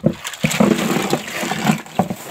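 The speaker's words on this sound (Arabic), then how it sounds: "حطيت بوله كبيره تحت الحنفيه." Tap water runs into a large bowl beneath a kitchen faucet, a close, uneven splashing stream with irregular surges and spatters throughout.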